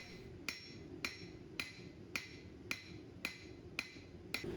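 A blacksmith's hammer rings on hot steel against an anvil while forging a flat taper, eight evenly spaced bright metallic strikes in steady rhythm, close and clear.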